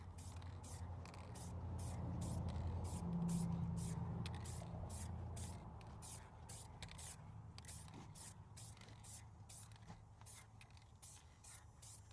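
Rapid, rhythmic bursts of an aerosol spray can hissing in short pulses while painting a Pontiac Grand Prix car, close by, with a faint low rumble underneath.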